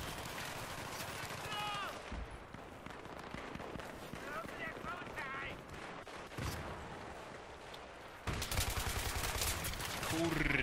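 Battlefield 3 gunfire crackles in rapid bursts and fusillades across a busy battlefield, with continuous machine-gun rattles and a heavier loud volley near the end, mixed with background voices and game noise.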